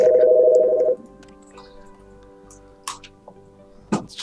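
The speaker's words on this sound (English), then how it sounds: "It's just such an office phone in the background." An office telephone gives one ringing burst of about a second, then falls silent. Scattered small clicks and a couple of brief sharp noises follow in an otherwise quiet room.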